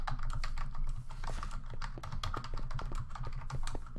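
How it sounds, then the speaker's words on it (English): Rapid clattering on a computer keyboard, dense irregular keystrokes close to the microphone, continuous for several seconds with no speech. "God damn it, this keyboard."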